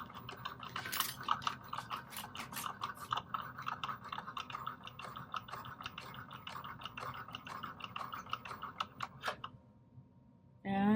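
A die cutting machine cutting paper ticks and clicks rapidly and steadily for about nine seconds, then stops and a brief mechanical whir follows.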